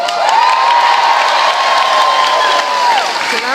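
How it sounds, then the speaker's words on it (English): Loud crowd applause and cheering fill a hall at a presidential event in Windham, a steady roar of clapping with whoops and a long sustained shout riding over it throughout. "I want everybody to give a big round of applause to Beth Talbot."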